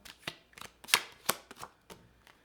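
A series of sharp, irregular snaps and riffles of tarot cards being shuffled and tapped, close and fairly quiet, with no talking.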